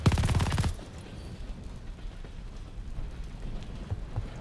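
Rapid burst of gunfire in Call of Duty Vanguard, a loud dense rattle in the first second, then fading into a steady rumbling wash of noise.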